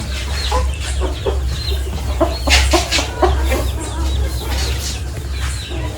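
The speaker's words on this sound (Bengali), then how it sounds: "দশ নম্বর খাঁচা হচ্ছে আমেরিকান লাইট ব্যান্টাম" American Light Bantam chickens cluck steadily in a cage, several birds overlapping in a close, continuous chatter over a low farm hum, with a few louder clucks standing out.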